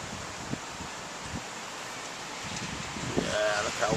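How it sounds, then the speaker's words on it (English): Wind blows during a storm, a steady broadband rush with soft rustling and gusts that swell toward the end, and faint voices mixed in. "look how windy she's getting"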